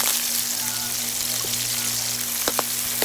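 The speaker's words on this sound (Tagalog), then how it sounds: "Gisa na natin ang ating bawang at sibuyas." Garlic and onion sautéing in a pan, a soft steady sizzle with faint crackles and a low hum, a couple of brief stirring clicks near the end.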